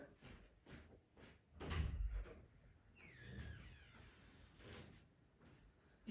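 A door is opened with a few soft clunks and a brief scraping slide, close but fairly quiet amid low background noise.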